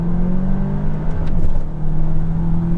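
A VW Arteon R Shooting Brake engine drones and revs close by as it accelerates, its tone dipping briefly at quick gearbox upshifts before climbing again.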